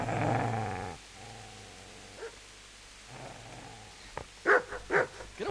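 A dog growls in a video game, a low rumbling snarl up close that breaks off, then returns as short sharp bursts of growls and snaps toward the end.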